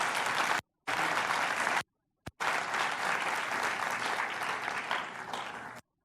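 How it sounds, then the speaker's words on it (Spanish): A church congregation at a Spanish-language conference gives loud, dense applause in sustained bursts, broken by two short gaps and cutting off abruptly at the end. "Si le van a dar al Señor ese aplauso, de hacerlo bien"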